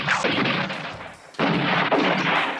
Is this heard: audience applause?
no